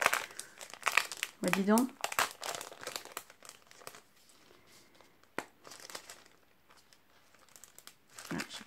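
Paper crinkling and tearing as a gift package is opened, a close, busy rustle that runs through most of the clip under a voice speaking French, with a brief exclamation partway through.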